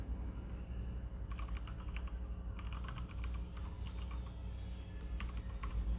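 Bursts of quick key taps on a computer keyboard while a password is entered on a Linux desktop, soft clicking in short irregular clusters over a steady low hum, with no talking.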